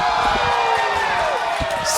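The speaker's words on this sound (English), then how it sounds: "Listen to this crowd." A wrestling crowd at a live show roars and cheers while fighting spills among the fans, a dense sustained wall of voices with shouts, and a commentator talks over it.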